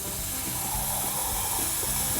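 Tap water pours into a roasting pan for a Big Green Egg turkey, a steady hissing, spraying rush that holds close and even for the whole moment with no talk.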